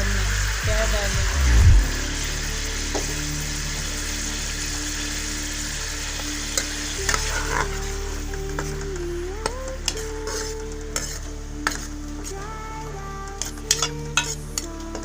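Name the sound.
garlic ginger paste sizzling in hot oil, stirred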